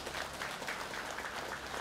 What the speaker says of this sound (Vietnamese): You like to clap, huh?